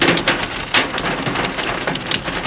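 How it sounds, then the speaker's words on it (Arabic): Steady rain falls in Riyadh, a dense continuous hiss with scattered sharper drops and patters on surfaces, loud and close throughout with no voices. "ومطر بعد"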